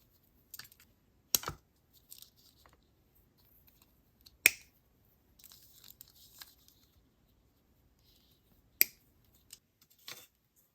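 Scissors snip through clear 0.8 mm stretch cord, making three sharp, crisp cuts spaced several seconds apart, with fainter handling clicks in between, close and isolated in an otherwise quiet room with no speech.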